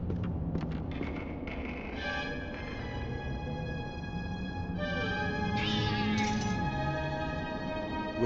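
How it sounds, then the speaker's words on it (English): A cat meows repeatedly in The Black Mirror video game, several drawn-out, rising and falling cries following one another over a steady background drone, fairly close and clear, with no talking. "I hear a sleeping cat."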